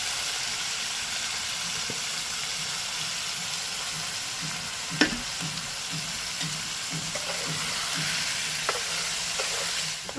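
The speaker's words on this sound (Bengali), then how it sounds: "তো হালকা করে ভেজে নেবো" Small fish frying lightly in oil, giving a steady, even hiss and sizzle throughout, with one sharp clack midway and faint soft taps of stirring.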